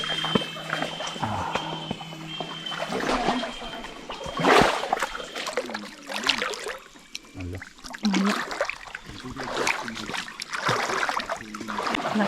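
People wade through muddy water in a jungle, with repeated sloshing and splashing footsteps, trickles and rustling, close and uneven, while voices talk at times.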